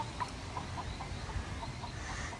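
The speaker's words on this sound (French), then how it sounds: "Je pense que vous entendez les poules à l'arrière." Hens cluck outdoors in a Guadeloupe countryside setting, a series of short, regularly spaced clucks at moderate distance over a soft background hiss, with no talking.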